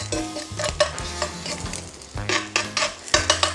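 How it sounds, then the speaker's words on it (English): Sliced shallots and garlic frying in oil for pad Thai, stirred with a utensil: repeated scraping strokes over a steady close sizzle, with light clinks of metal on the pan. "That can go in, give that a little stir around."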